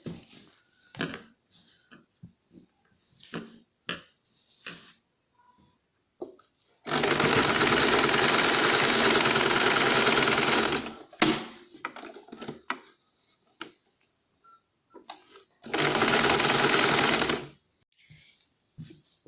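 A sewing machine stitches back tucks on a blouse in two sustained whirring runs of a few seconds each. Quiet clicks and handling noises of fabric and machine come between the runs.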